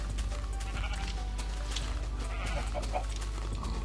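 Minecraft sheep bleat several times in short, close calls over a constant low game hum.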